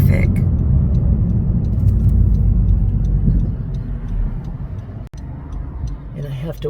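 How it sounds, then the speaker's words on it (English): Cars race past on a busy road beside a canyon trail turnoff, a loud continuous rumble of traffic that eases off partway through before another vehicle approaches. "the cars go really fast"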